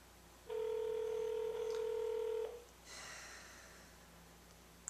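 A landline telephone dials out, giving a faint run of steady touch-tone beeps lasting about two seconds, then a soft rustle and a small click in a quiet room.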